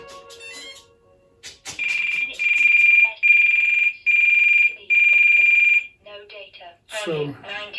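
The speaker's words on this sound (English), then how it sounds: "what you just heard was the battery alarm going off" A receiver's telemetry battery alarm on an RC airplane beeps in four loud, evenly spaced shrill tones at close range, with quieter beeps and talking before and after.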